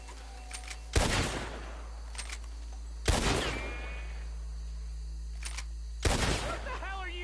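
Three loud, sharp gunshots in a video game, spaced about two to three seconds apart, each with a ringing echo over a low steady hum, with faint game voices between them.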